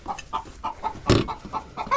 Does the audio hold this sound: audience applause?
no